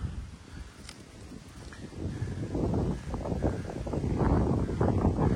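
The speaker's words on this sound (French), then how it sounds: "Alors évidemment, il y a du vent." Steady wind buffeting a microphone around a 1974 Volkswagen Combi T2b, a low rumbling roar that swells and grows stronger toward the end, with no voices.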